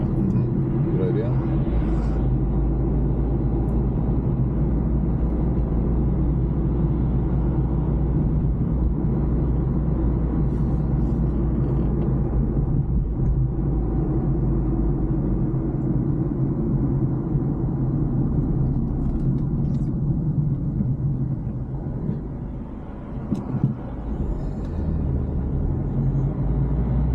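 Steady low rumble of a car driving along a road during a driving lesson, a constant engine and road drone heard from inside the cabin with only slight changes in level.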